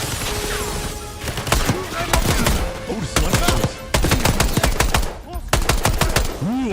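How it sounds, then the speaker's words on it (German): Gunfire in the video game Call of Duty: Black Ops 6, loud close bursts and single shots cracking in irregular clusters over a dense battle soundscape, with in-game voices underneath. "Einzelschuss gefällt mir gut."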